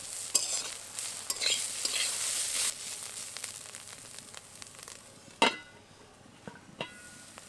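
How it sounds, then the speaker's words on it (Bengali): Banana stem frying in a wok, stirred with a spatula: soft continuous sizzling broken by sharp scraping strokes and clinks, with one loud scrape near the end, close and alone. "এবার খুলে নেড়ে নেব।"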